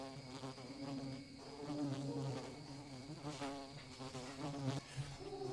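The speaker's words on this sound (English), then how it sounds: "Noisy, disgusting bugs that buzz around and crawl all over and bite you" Swarming insects buzz continuously and fairly loudly in a nighttime scene of the video game Fire Emblem Awakening, a steady droning hum that fills the whole stretch without pause.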